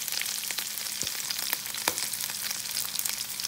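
Shrimp frying in oil in a pan, a dense crackling sizzle with scattered sharp pops and spatters, close and steady throughout.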